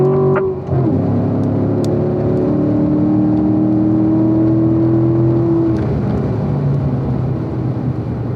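A Corvette race car on the Spring Mountain circuit pulls hard in fourth gear, a loud sustained engine drone with a rising tone that holds steady, then eases off near the end.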